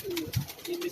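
Pigeons on a Karachi rooftop give soft, low throaty coos, two short calls in under a second, faint against light outdoor background.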